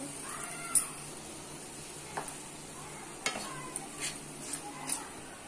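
Vegetables and paneer being stirred together in a pan for fried rice, with a soft steady sizzle broken by several sharp spatula scrapes and clinks against the pan.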